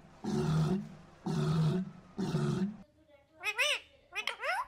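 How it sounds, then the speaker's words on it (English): A walrus lets out three loud, deep, rasping roars in a steady rhythm. Higher, sharp squawking calls follow close up. "Walrus."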